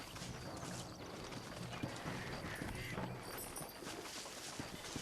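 Horse hooves clip-clop steadily at a gallop in the Red Dead Redemption game on PS3, a dense continuous beat under ambient game sound, with a faint whinny.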